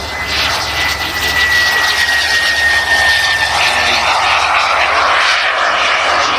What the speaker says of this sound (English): Beautiful aeroplane